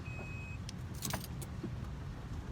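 An SUV camper's automatic key unlocks the rear hatch, giving a couple of short electronic chirps and clicks, followed by a faint jangle of keys over quiet engine or road hum.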